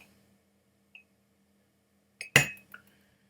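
A glass clinks as a dram of Shelter Point Smoke Point Batch 3 whisky is poured, one sharp ringing clink with a brief ringing tail and a lighter tap after it, close and otherwise quiet.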